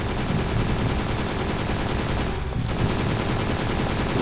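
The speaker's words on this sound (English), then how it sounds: "Wait, I hear gunfire." Rapid, dense video game gunfire rattles continuously in bursts over a loud, noisy background, with a short dip near the middle.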